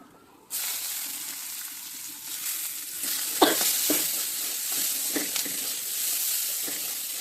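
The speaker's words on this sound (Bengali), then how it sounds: "রসুনটা আমার ভাজা হয়ে গেছে এখন আমি পেঁয়াজটা দিয়ে দেব" Onions drop into hot oil with fried garlic and a little turmeric, a sudden loud sizzle that holds steady, broken by a few stirring scrapes and clicks of a spatula.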